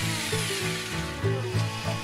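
A power tool cuts a hatch frame out of plywood on a dark winter night, a loud, close whine with steady harmonics that rises and dips in pitch as the cut proceeds.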